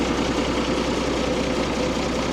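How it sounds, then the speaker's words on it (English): A campervan's engine preheater runs in freezing Arctic conditions, giving a steady, dense, close-up whirring hum with no change in level. "That's our engine preheater."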